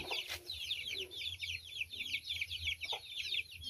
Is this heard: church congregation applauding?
no